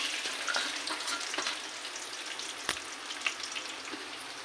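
Four chopped onions frying in a pan with a bay leaf, cinnamon stick and cloves give off a steady, close hiss of sizzling oil, with a few soft stirring clicks and one sharp tap partway through.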